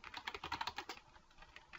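Typing on a computer keyboard while working in Excel: a quick run of close, soft key clicks, busiest in the first second, then thinning to a few scattered taps.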